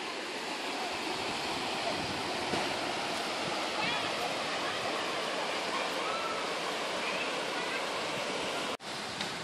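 A waterfall at the Park of Three Lakes in Israel pours in a constant broad hiss of falling water, steady and fairly close, briefly cutting out near the end.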